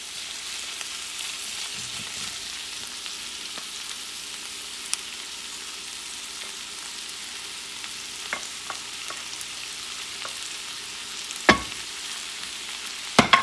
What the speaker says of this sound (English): And what you're doing here is mixing everything together.